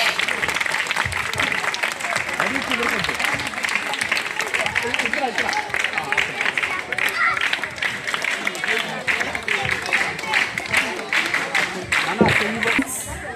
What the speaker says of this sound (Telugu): నేమ్స్ అనౌన్స్ చేసినప్పుడు కూడా గట్టిగా క్లాప్స్ కొట్టాలి